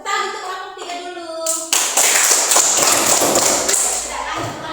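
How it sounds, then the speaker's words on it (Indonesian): Applause in a classroom, a burst of many hands clapping that starts suddenly after a teacher speaks and continues loudly for a few seconds before fading as another voice comes in. "Tepuk tangan untuk kelompok 3 dulu."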